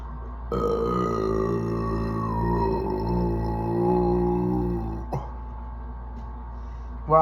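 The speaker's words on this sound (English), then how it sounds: "today is intense burp" A long, loud belch rolls out after chugging two Diet Cokes and two Coke Zeros, sustained for several seconds with a deep croaking tone, followed by a short second burp.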